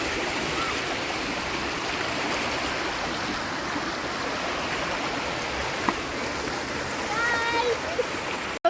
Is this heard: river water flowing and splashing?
yes